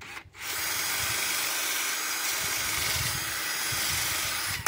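Rust being scrubbed off an old pair of pliers with a power tool, a steady continuous whirring grind held close and loud for several seconds after a brief pause at the start, with no talking.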